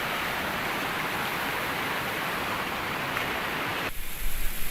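Rushing water of the Jhelum River at Jaggu Head, a loud, dense, steady roar close by that shifts in tone near the end as the position changes.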